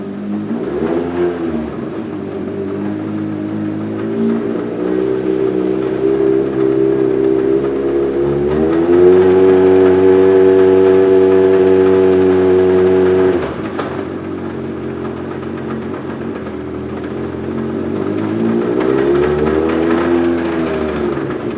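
Hayabusa-swapped 1981 Toyota Starlet engine revving loud and close for about twenty seconds, its pitch climbing, dropping at each shift and climbing again through the gears with no talk.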